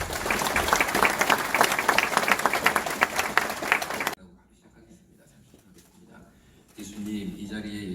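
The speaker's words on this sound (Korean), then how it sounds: "나오실 때 박수로 환영하겠습니다." Audience at a Gunsan city church seminar applauding to welcome a guest speaker, dense steady clapping for about four seconds, then sudden near-silence and faint murmur before voices and sound pick up again.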